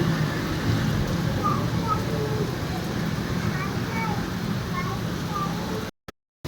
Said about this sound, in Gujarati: કડીમાં અત્યારે ફૂલ વરસાદ ચાલુ રહ્યો છે